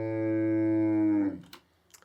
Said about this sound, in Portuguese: Já parece muito mais como uma vaca